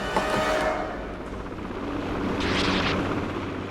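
A helicopter flies close to steep mountain cliffs on a rescue mission. Its loud, continuous rotor and engine roar holds steady throughout.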